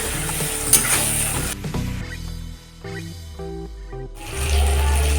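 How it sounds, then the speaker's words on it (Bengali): Spice paste of ginger paste and chopped tomato fries and is stirred in a pan, with a steady sizzle broken by scraping strokes and short pauses, then a louder burst of frying near the end, with no speech. "এইভাবে করে আরও দু মিনিট মতো আমি এখানে মশলাটা কষিয়ে নেব"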